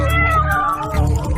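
A cat meows loudly and close up, one drawn-out wavering call with a whiny, caterwauling tone.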